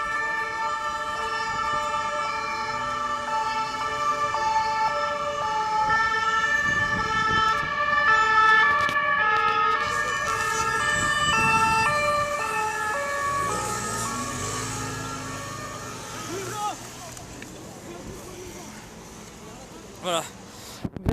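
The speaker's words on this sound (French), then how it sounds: "vous voyez les voitures de police qui partent à fond dans tous les sens" Police car sirens wail and sweep repeatedly as vehicles speed away during a nighttime street protest in France, mixed with road traffic and crowd noise, with a reporter speaking over them throughout.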